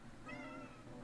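A cat meows once in a drawn-out, tonal call, close and clear above a steady low background hum.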